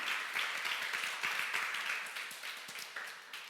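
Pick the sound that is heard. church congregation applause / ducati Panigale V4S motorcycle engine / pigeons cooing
church congregation applause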